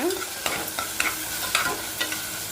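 Tomatoes with a little salt sautéing in a pan, a steady sizzle broken by several quick spatula scrapes and taps at a brisk, uneven rhythm, close up and without speech.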